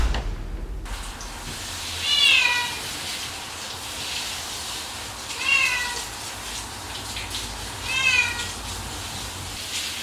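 A wet cat meows three times at spaced intervals, plaintive and fairly close, over a quiet background of faint water sounds.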